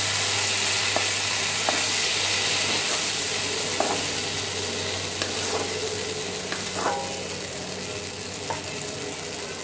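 Pirandai (adamant creeper) stirred and fried in a pan, with a steady sizzle throughout and scattered scraping taps of the spoon against the metal. No voices are heard.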